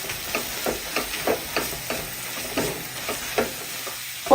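A spoon stirs spice powders into hot sautéed onions in a pan, giving a steady run of soft scraping strokes at an even rhythm, close and fairly quiet over a faint sizzle, with no talking.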